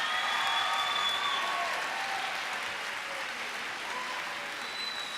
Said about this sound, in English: How about another round of applause for all of our student winners tonight?